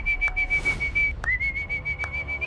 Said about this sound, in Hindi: और वो सीटी बजा रहा है।